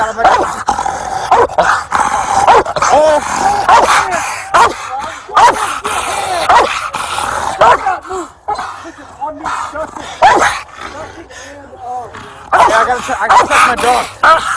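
A police dog barks, growls and whimpers during a chaotic arrest scene after a shooting, loud and close, with agitated yelps repeating throughout while officers shout over it.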